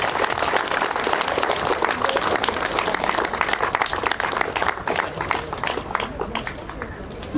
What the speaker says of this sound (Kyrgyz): Бир кол чаап коюңуздар.